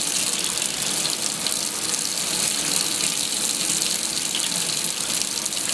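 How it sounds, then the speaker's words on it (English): Water rushes steadily through a Wagner Flexio 590 spray gun held open for cleaning, a continuous loud hissing gush with no pauses. "letting the water flow through the gun"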